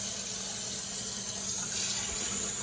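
Cold tap water runs steadily from a kitchen faucet over vegetables being rinsed for fried rice, a continuous close hiss of flow into the sink with no talking.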